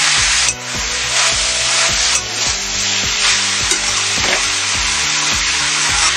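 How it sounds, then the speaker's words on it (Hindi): Maggi noodles and chopped vegetables stirred in a pan give a steady, loud scraping and rubbing sizzle with a repeating rhythm of spoon strokes and no talk. "मैगी को भी थोड़ा चला देते हैं"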